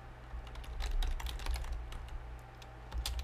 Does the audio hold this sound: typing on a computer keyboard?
yes